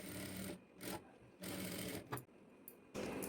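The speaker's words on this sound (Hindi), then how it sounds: "फिर सिलाई लगाते जाएंगे।" A sewing machine runs in several short stitching bursts separated by brief pauses while a blouse is sewn with a half-inch seam margin; the motor whirs steadily and nearby.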